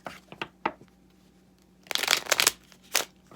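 A deck of Gypsy Oracle cards is shuffled in several close, crisp bursts of riffling and flicking, with short quiet pauses between them.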